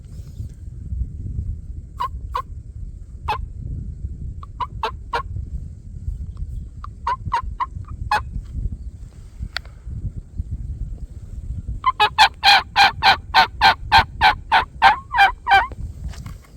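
Wild turkeys gobble in the woods, first as scattered distant calls, then as a louder burst of rapid repeated gobbles near the end, over a low rumble of wind.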